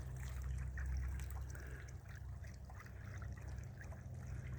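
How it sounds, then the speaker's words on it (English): A small water pump set up for a chicken waterer keeps a thin stream trickling steadily, with a low hum underneath, quiet and close with no talk. "Went ahead and plugged my pump up for the chicken's water."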